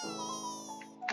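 The World stand's summoning sound effect in the Roblox game Generic Jojo Game, a brief sustained buzzing, harmonic tone that holds steadily before a bright flourish at the end, clear and alone.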